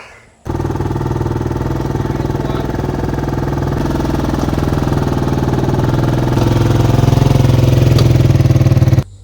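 A 2001 Chevy Tahoe engine runs steadily at idle, close and loud, with a low rumbling throb. Its pitch and level rise slightly toward the end, and no voices are heard.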